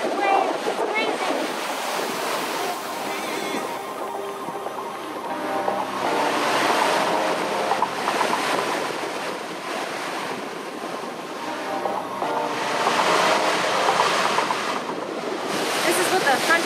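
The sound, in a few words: waves and high wind in a squall at sea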